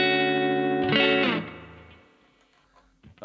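Compressed electric guitar run through a Kali 76 compressor pedal on a pedalboard, a sustained chord ringing loud with a slight swell before fading out slowly, no voices.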